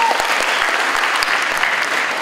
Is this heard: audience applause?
yes